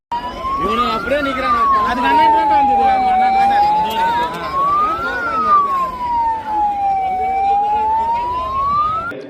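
Ambulance siren in congested traffic, a loud wailing tone sweeping slowly up and down in long cycles, close and prominent, with people talking and traffic noise underneath.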